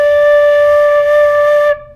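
A flute blown with no keys pressed gives a single sustained, hollow, breathy tone, loud and close, holding steady for nearly two seconds before cutting off abruptly.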